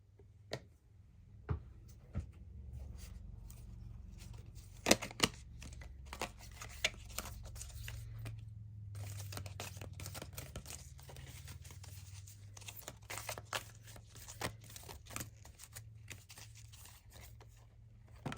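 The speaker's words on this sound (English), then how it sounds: "I am going to draw a couple oracle cards from the Energy Oracle" Energy Oracle cards being shuffled and drawn by hand, a run of soft papery flicks, riffles and taps, close and quiet over a low steady hum, with no talking.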